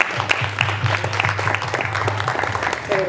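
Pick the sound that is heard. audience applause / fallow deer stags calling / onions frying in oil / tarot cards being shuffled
audience applause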